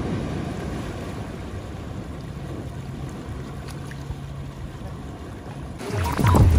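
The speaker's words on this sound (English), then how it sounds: "too much water and it makes little mini waves" Small waves ripple and lap along a swollen river, a faint, continuous wash of water heard alone, with a louder splashing burst right at the end.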